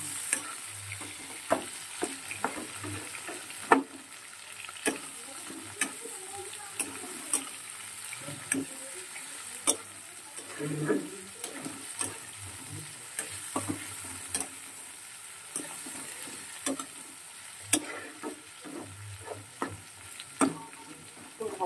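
Chopped onion and green chilli fry in a pan with a steady sizzle, while a utensil stirs and scrapes in scattered knocks throughout; fairly close and moderately loud, with no talking.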